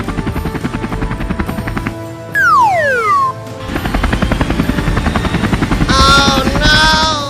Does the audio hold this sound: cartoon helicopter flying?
yes